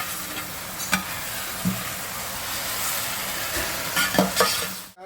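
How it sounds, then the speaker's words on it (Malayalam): Mango pickle is stirred in a sizzling pan, a steady frying hiss broken by occasional spoon scrapes and taps against the pan; no voices. "ഇങ്ങനെ ഇളക്കി തന്നെ അത് സെറ്റ് ആവും"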